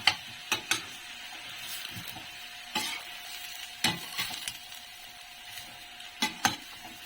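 A spoon stirs squash and vegetables for ginataang gulay with shrimp in a pot, giving repeated sharp clacks and scrapes against the pot over a low simmering hiss.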